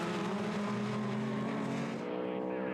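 TVR race cars at Snetterton roar past in a sustained, high-revving engine drone that fades slightly toward the end, heard at moderate distance under continuous commentary.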